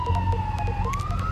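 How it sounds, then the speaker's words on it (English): A wailing siren with a steady rising and falling tone, heard from a moderate distance over a low rumbling engine hum. "That's a siren I can hear."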